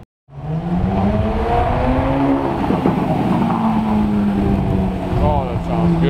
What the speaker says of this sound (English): We got a supercar.